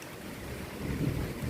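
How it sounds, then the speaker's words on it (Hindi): Strong wind roaring and buffeting outdoors during a rain and thunderstorm near hills on a Narmada river pilgrimage route, a loud close rushing gust rising over a brief moment with no talk. "कि बारिश भी हो रही है, तूफान भी चल रहा है।"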